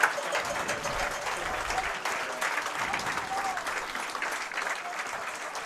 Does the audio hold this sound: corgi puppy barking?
no